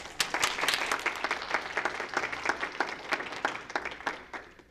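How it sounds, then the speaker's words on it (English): A small group at a board meeting claps steadily for several seconds, the applause fairly close and gradually thinning toward the end. "Don't clap too hard."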